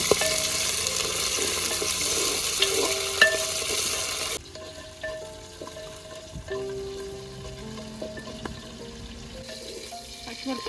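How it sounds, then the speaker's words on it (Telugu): Green chillies and garlic fry in oil for a brinjal curd chutney, a loud close sizzle for the first few seconds, then quieter crackling and stirring clatter in the pan. "పచ్చిమిరపకాయలు ఎల్లిపాయలు 2 ఫ్రై చేసి"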